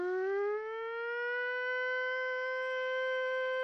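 Steady wail of an air raid siren, as heard in Greeley, Colorado, holding one sustained tone after a brief initial rise. It sounds alone, fairly distant, with no voices or other sounds.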